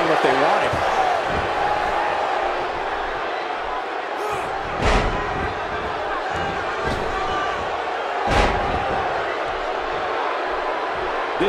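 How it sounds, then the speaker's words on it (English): Crowd noise from a WWE 2K17 SummerSlam championship match between AJ Styles and John Cena, a steady roar of cheering throughout with sharp slam thuds from the ring at intervals. "by the sound of this crowd"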